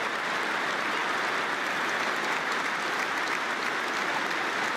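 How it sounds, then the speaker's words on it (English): A hurling stadium crowd at a Munster final applauds steadily, a dense, even wash of clapping that holds at the same level throughout, with no voices standing out. "the applause is going around for the two"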